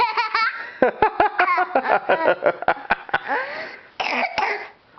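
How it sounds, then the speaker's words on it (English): A child coughs and giggles in quick bursts, close and loud, with short voiced sounds mixed among the coughs. "bit of a cough"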